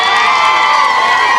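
A large outdoor crowd at a political rally in Kibra, Nairobi cheers and shouts continuously, a dense, loud roar of voices and whoops with children shouting mixed in, sustained without a break.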